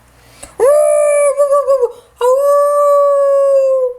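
A dog lets out two loud, drawn-out howls close by, the first wavering and breaking into yips, the second long and steady.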